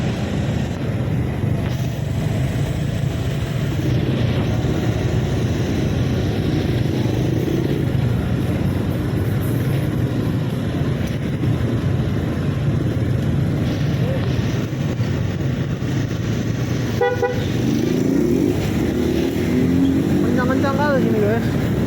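Dense stop-and-go traffic jam on Jalan Pasar Merah in Medan, a steady wash of car and motorbike engines close by, with a brief horn-like tone near the end; a voice talks intermittently over it.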